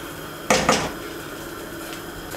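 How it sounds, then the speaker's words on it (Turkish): A metal pot lid clanks down onto a pot of resting rice pilaf with a short double clatter, then quiet kitchen background. "Kapağını kapatıyorum."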